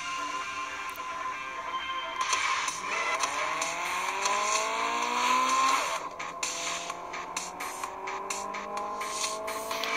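Car driving in a mobile racing video game played on a Moto G (2014) phone speaker, engine tones rising in pitch as it accelerates and shifts, with tire and scrape noises, fairly faint and with no talking.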